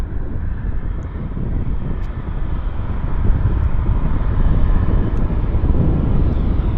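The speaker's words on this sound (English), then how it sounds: "here's our CRJ from San Diego, California, inbound to Vancouver International" A CRJ regional jet inbound from San Diego to Vancouver International Airport gives off a steady, broad engine roar that builds slightly as it nears, with some wind buffeting the microphone.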